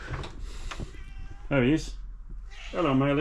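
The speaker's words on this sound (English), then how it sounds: "Hang on, I'll just let the cat in." A house cat meows at a door, asking to be let in, with a couple of clear drawn-out meows standing out between a man's nearby speech.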